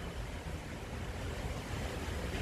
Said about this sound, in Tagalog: mapapansin niyo ang lakas ng lakas ng hangin